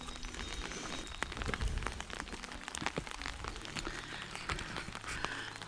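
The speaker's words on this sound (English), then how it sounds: "as you can hear from the rain on my umbrella, it is still raining." Rain patters steadily on an umbrella during an outdoor walk by a bridge and river, a dense close hiss with scattered sharper drops, no voices.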